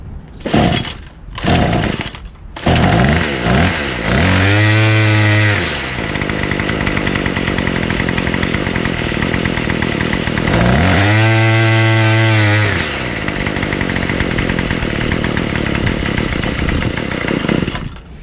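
Craftsman 27cc two-stroke weed trimmer engine sputtering to life, then running loud and close with a buzzing idle, revving sharply up to a high scream twice before dropping back to a steady rattly idle.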